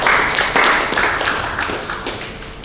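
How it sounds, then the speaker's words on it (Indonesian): A church congregation claps together in a dense, steady burst of applause that stays loud and close throughout, slowly easing off toward the end. "Tepuk tangan bagi Tuhan Yesus yang baik."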